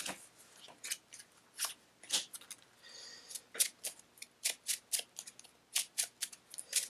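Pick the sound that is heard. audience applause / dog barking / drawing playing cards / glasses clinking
drawing playing cards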